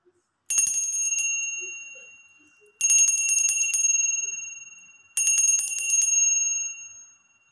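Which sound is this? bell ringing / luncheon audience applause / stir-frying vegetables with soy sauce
bell ringing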